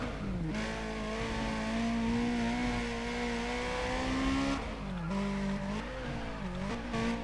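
A Lotus race car in a Need for Speed racing game on a small track, its engine droning steadily with pitch shifts as it brakes and accelerates, tires squealing through corners, loud and continuous without talk.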